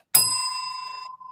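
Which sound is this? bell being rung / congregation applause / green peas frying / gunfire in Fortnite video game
bell being rung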